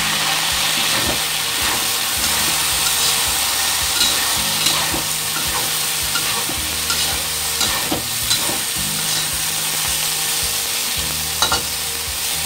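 Chicken pieces stir-fried in a pan, steady loud sizzling and frying throughout with repeated scraping and stirring strokes of a utensil, no talk.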